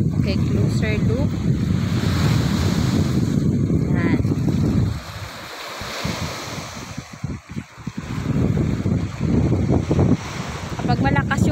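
Gusty wind buffets the microphone while strong sea waves rush and wash in steadily on the shore, with a few brief spoken words in Filipino over the roar.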